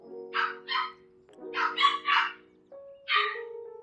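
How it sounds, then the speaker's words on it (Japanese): A small dog barks indoors in bursts of two and three yaps with short pauses between, fairly close and clear, over a faint steady hum in the background. "もううるさいな、今日ワンちゃんがね。"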